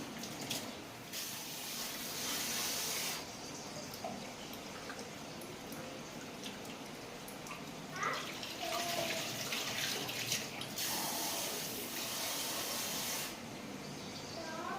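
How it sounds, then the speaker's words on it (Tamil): Kitchen tap running water into a pot for soaking rice, a steady soft hiss with occasional small splashes, quiet and close throughout. "நான் இப்போ கழுநீர் பிடிச்சிட்டு தான் தண்ணி அரிசி ஊற வைக்க போகிறேன்"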